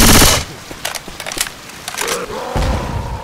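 Rapid gunfire from a Left 4 Dead 2 match on Expert Realism: a loud burst opens, then scattered sharp shots crackle and pop through the rest, with a heavy blast near the end.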